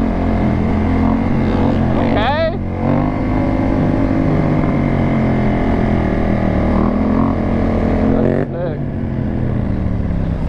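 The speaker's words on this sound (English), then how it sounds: "Coming in on that two-stroke." Two-stroke dirt bike engine revving nearby among other motorcycles, a buzzing, rising and falling drone with two sharp rev swells, loud and continuous with faint voices underneath.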